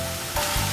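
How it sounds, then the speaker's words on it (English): Crushed garlic hitting a hot pan with green beans, a loud close broadband sizzle that swells abruptly partway through and holds steady. "Now I am going to add crushed garlic in it"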